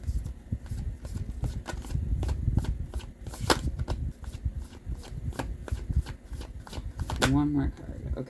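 Tarot cards are shuffled by hand for a reading, with repeated soft riffling and slapping strokes close up throughout and a person talking at times.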